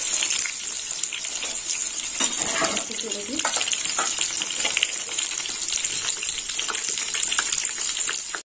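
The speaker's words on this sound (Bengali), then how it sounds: "তেল গরম হয়ে গেছে, এবার আমি বেগুনগুলো ভেজে নেব।" Eggplant slices fry in hot mustard oil with a continuous close, bright sizzle and crackle. Soft stirring and handling noises come and go, with no talk.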